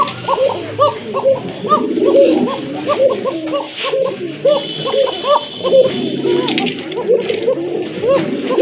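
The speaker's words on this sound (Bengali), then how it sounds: "খুবই ভালো ডাকে এটা কিন্তু অনেক ডাকে কবুতরটা" Many pigeons coo close by, overlapping rhythmic throaty calls repeating steadily throughout, loud and continuous.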